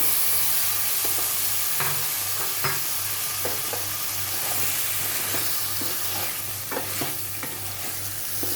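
Potatoes tossed into a pan of stuffed brinjal masala, frying with a loud continuous sizzle and repeated spoon scrapes and clacks against the pan, near and steady, without speech.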